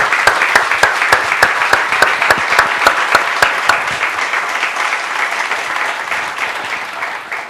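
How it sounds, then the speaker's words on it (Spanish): Applause for the Lord rises in a church service, a dense steady clapping from the congregation with sharp individual claps standing out early, then thinning and softening toward the end. "Démosle un aplauso al Señor."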